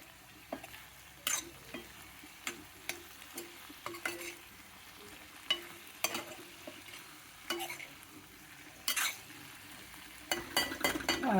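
A crushed garlic clove frying in a pan for an okra and brinjal meal, faint sizzling under repeated clinks and scrapes of a utensil against the pan, close and without speech.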